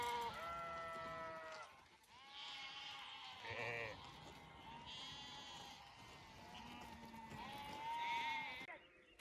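Akkaraman sheep in a flock near Mount Ağrı bleat repeatedly, several overlapping wavering calls close by and fairly loud, continuing throughout with no pause.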